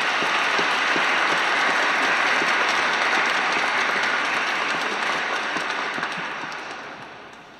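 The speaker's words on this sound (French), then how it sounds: "Et on peut les applaudir, je pense." Sustained, dense applause from a large congregation at a Chrism Mass honoring priests' ordination anniversaries, even and loud before tapering off near the end.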